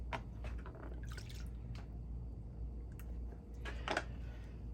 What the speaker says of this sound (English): I'm gonna rinse this bag out and check it out